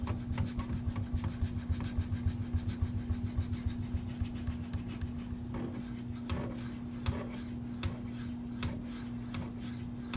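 Maxamet steel knife blade rubbed in steady repeated strokes across a wet Venev diamond sharpening stone, a close, continuous rasping scrape over a constant low hum.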